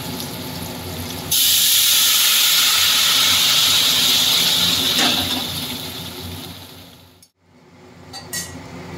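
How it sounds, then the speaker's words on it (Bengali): Hot water pours into a pan of Bengali khoira fish curry with eggplant, bursting into a loud, close, steady hiss that fades gradually before a short silence and a few last faint splutters. "এবার আমি গরম জলটা দিয়ে দেবো।"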